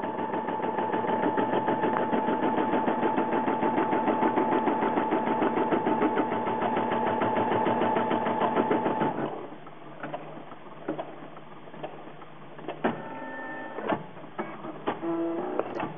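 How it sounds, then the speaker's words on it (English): A Brother Innov-is NV990D embroidery machine stitches an appliqué border on a Frozen-themed stocking, running a fast, steady mechanical rattle that stops about halfway, followed by quiet with a few short beeps and clicks. "now we are beginning to stitch the border for the applique"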